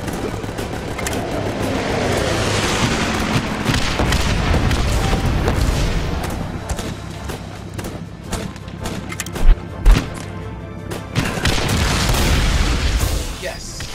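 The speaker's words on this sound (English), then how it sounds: "So let's put a bombing run right on top of the base that I have to get to" Bombing-run explosions in a PS4 shooter: deep, rumbling booms roll through busy game sound, with two sharp, heavy thuds near the end of the barrage.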